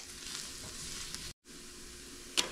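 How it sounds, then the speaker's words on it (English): Flour cooks in a pan with a steady, close hiss of frying, stirred now and then, broken by a brief silent gap and a sharp clink near the end. "now we're gonna add the flour two tablespoons. And we're going to cook this for about three minutes"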